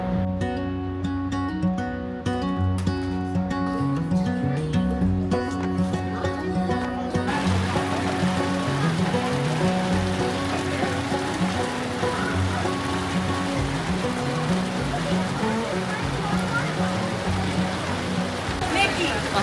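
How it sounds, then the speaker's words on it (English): Steady rain patters and hisses at the Dollywood theme park in Pigeon Forge, a constant wash of noise mixed with music and people talking. "We're hiding from the rain."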